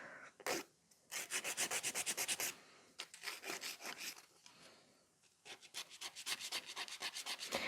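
A nail file rubs across a gel nail in quick back-and-forth strokes, close and crisp. The strokes come in rapid rhythmic bursts, separated by short pauses.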